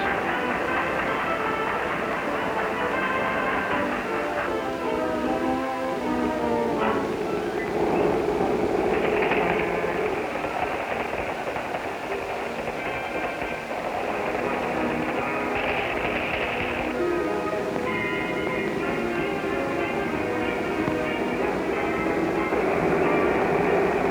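A Southern Pacific manifest freight train rumbles and grinds steadily as it switches onto a siding in mountain territory, a loud continuous roar with shifting metallic tones under a narrow, dated-sounding recording.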